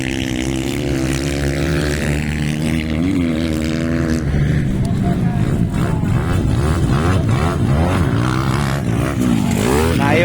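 Loud, continuous engine roar from enduro racing motorcycles at a local enduro race, revving with shifting pitch and staying close throughout, with voices faintly mixed in.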